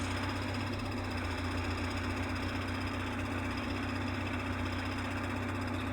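A warmed-up car engine idles steadily at close range, a continuous low rumble with an even, slightly knocking pulse and no talk over it.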